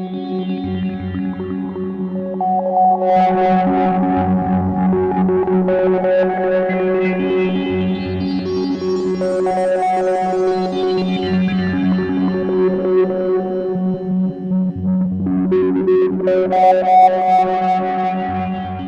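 A distorted synth drone from the distortion stage of an Endorphin.es Ghost eurorack module, with a steady pulsing low bass and gritty, saturated harmonics that swell and brighten over time, no voices.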